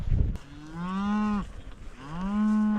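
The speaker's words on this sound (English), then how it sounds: "I see one right there, great big cow right there." Cattle low in a sorting pen, two long, close moos one after the other with a bit of rustling and handling noise around them, no talk.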